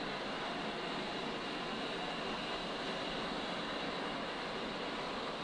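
A steady, unbroken aircraft engine drone from a flight simulator game such as DCS or War Thunder, with the aircraft flying with flaps down, heard as a dense, even roar with no talking.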